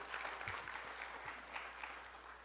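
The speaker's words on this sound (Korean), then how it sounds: "마칠 때까지 더 잘할 수 있도록 격려의 박수 부탁합니다." Church congregation at a Sunday service claps in encouragement for Sunday school students, a soft, muffled patter of applause heard from a distance in a large room.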